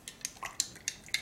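A metal spoon clinks against dishes in a quick run of about six light, bright taps, close by and alone.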